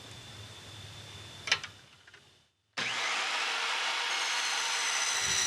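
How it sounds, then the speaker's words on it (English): A miter saw fitted with an aluminum-cutting blade cuts aluminum polycarbonate trim for a high tunnel: a quieter hum and a sharp clack, a moment of silence, then the motor's loud, steady high whine running alone. "I found that a miter saw with an aluminum cutting blade in it works the best for cutting C-channel or this aluminum polycarbonate trim."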